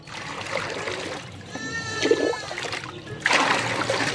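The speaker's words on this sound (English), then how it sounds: "So we've got our vaccine, then we can mix it inside the water." Water for chicks splashing and trickling as vaccine is mixed in: bursts of pouring and sloshing, a gurgling stretch in the middle, then another splashy pour, fairly close and moderately loud.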